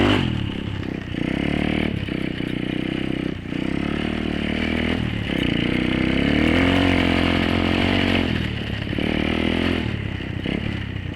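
A motorized beach cruiser bicycle with no suspension rides through snow, its small engine droning loudly and steadily throughout, with brief dips and rises as the throttle changes and occasional rattling clatter.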